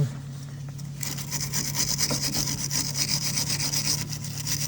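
A wire brush scrubs a rusty brake pipe near the calliper on a Volvo V70, a steady rapid scratching rasp close up over a low constant hum, no talk.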